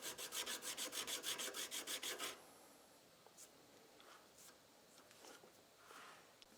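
A file cuts checkering into the front strap of a 1911 pistol in quick rhythmic rasping strokes, about a dozen close passes, followed by quieter scattered handling sounds.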